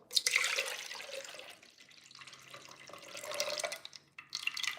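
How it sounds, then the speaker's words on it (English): Homemade weight-loss juice is poured into a glass, a soft, close liquid trickle and splash that rises and fades in uneven bursts. "So let me get ready to pour my juice."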